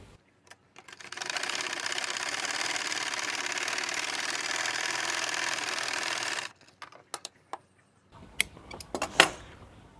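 A sewing machine stitches the back pocket of a pair of pants in one steady, close, buzzing run lasting several seconds, then stops, followed by scattered clicks and handling knocks.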